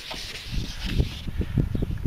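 Wet sanding a plastic car headlight, a rhythmic rubbing and scraping in short repeated strokes, close by and moderately loud, with no voices.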